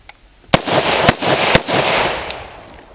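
A Saiga shotgun fires three loud, sharp blasts about half a second apart. A fainter pop follows, and each shot rings out with a decaying echo outdoors.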